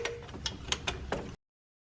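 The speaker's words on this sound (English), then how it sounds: "So we also remove this pulley here, and that's a size 15 to undo it." Size 15 wrench undoing the pulley bolt on a Hyundai Sonata during serpentine belt and tensioner work, giving a close, rapid series of sharp ratcheting clicks over about a second before it stops.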